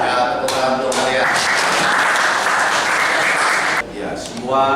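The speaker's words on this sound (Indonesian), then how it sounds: "Ya, tepuk tangan untuk kalian." Students in a classroom clap their hands together, a dense burst of applause lasting a few seconds before fading, with voices heard around it.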